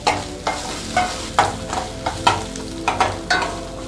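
Sliced onion and torn dried red chillies sizzle in hot tempering oil, with a loud steady fry broken by regular scraping stirs about every half second.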